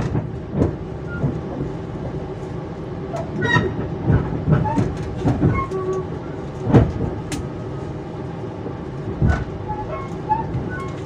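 The KA Jayakarta passenger train runs on rails between Jatibarang and Cikampek, heard from inside as a steady rumble with repeated clacks and metallic bangs, loud and continuous.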